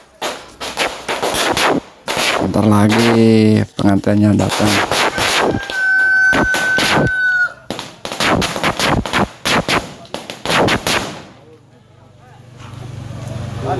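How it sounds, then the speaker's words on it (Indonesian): Firecrackers bang in rapid, loud volleys at a village wedding in Garut, West Java, while guests wait for the groom's procession. The bursts come in dense clusters with short gaps, and someone speaks briefly between them. "Sambut petasan raya."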